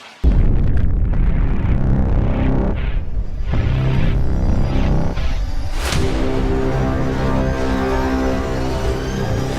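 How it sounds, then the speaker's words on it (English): Huge nuclear explosion effect, a sustained roaring rumble that starts abruptly and stays loud and dense, with a brighter blast surge partway through. "Thus, in 2024 BCE, there was a nuclear explosion in the Middle East region."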